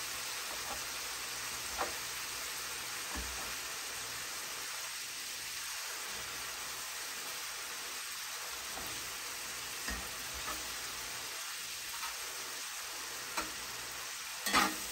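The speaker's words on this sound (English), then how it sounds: "Just gonna kind of chop that chorizo up" Chorizo sizzling and being stirred in a hot pan for grilled zucchini chili, a steady frying hiss with occasional soft scrapes and taps of a utensil, close and alone with no talk.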